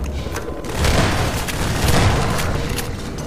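Gunfire and a grenade blast from Half-Life 2 come as dense, rumbling booms and crackling bursts, loud and continuous over a few seconds with two heavier swells, with no voices.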